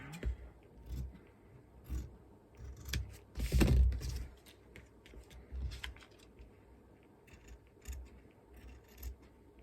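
Scissors cutting a paper letter L for bunting, with quiet, irregular snips and rustles close by, one louder burst of cutting midway, and no talk.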